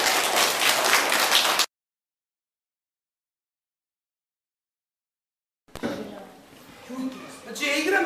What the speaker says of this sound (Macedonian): Ајде со еден аплауз да ги наградиме.